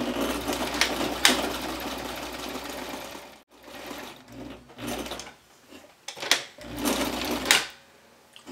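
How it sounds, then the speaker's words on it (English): A sewing machine stitches the side seam of a drawstring backpack, close and fairly quiet, with several runs of rapid mechanical stitching broken by short pauses and no talking. "sew all the way down to the bottom until I reach that mark that was 5/8 inch from the bottom"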